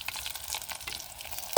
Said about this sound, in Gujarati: અમારે મરચા તળાય છે